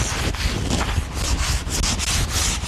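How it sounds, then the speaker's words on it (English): Sandpaper is rubbed steadily along the edges of a wooden staircase being refurbished, producing a loud, continuous, close-up scratchy rasp with slight rhythmic strokes and no speech. "Just take your sandpaper and just run it along those edges."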